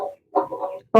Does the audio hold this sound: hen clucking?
yes